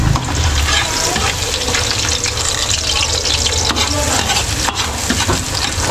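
Garlic and onion frying in a pan for kare-kare, giving a loud, continuous close sizzle with stirring scrapes and a faint watery hiss running throughout.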